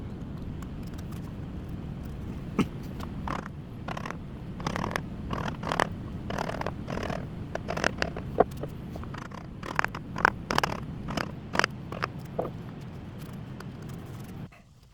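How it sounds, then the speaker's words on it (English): Hand carving scrap wood with a 3/8 inch chisel, giving a run of irregular scraping, slicing strokes and clicks close by over a steady low background rumble, with no talking. "So I'm using a 3/8 inch chisel here."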